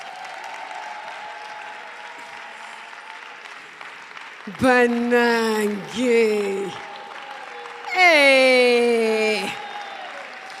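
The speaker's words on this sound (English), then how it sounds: "let's clap for them" An audience at a leadership school graduation applauds the assessors in short bursts of clapping and cheering, with a voice calling out over it.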